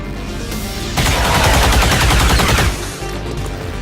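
Rapid weapon fire from XCOM 2: War of the Chosen erupts suddenly, a loud dense burst of automatic gunshots lasting under two seconds before cutting off, with a steady game ambience around it.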